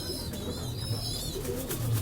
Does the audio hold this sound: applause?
no